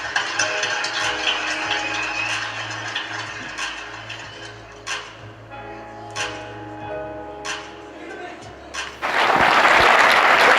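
Applause rises from the audience at an NAACP Leadership 500 awards dinner, heard mixed with crowd chatter and tonal sounds in the room, then swelling into a loud, dense burst of clapping near the end.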